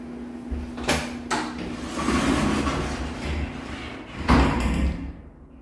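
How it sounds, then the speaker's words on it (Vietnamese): A door closing inside a one-bedroom apartment at Vinhomes Grand Park, with a sharp knock early on and a firmer, louder slam near the end, followed by a quiet room. "Đây, đóng cửa lại."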